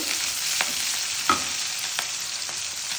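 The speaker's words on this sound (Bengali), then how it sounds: "এগুলো একটু ভাজা ভাজা হোক" Green chillies and onions fry in oil in a pan while egg noodles are being made. A constant near sizzle is marked by a few soft stirring taps, and no one speaks.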